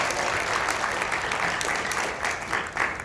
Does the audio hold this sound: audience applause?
yes